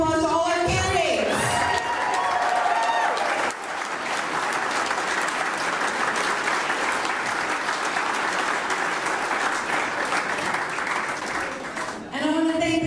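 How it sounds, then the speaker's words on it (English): An election-night audience applauds its candidates in a sustained round of clapping with some cheering, with voices talking briefly at the start and end. "Can we give a round of applause to all our candidates?"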